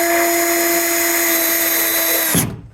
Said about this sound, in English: we're gonna attach the legs with these deck screws